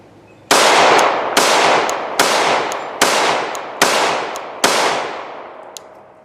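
Six loud, evenly spaced shots from a Glock 21 Gen 5 MOS pistol firing .45 ACP rounds, each a sharp crack with a ringing tail, close and clear with no talking.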